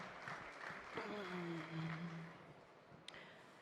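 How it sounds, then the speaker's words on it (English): Faint clapping from an audience at a tech talk, thin and scattered under a low voice, with one sharp click near the end. "You can clap."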